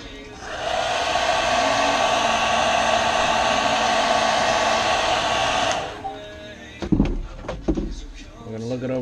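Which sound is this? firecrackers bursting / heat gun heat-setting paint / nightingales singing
heat gun heat-setting paint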